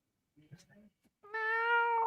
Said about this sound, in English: Beautiful little kitty, huh?